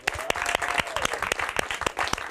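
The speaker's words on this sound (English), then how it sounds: "Give him a round of applause." Audience applause for Keith Taylor as he returns to the stage of a talk show, steady clapping with sharp individual claps punctuating it and a brief whistle near the start.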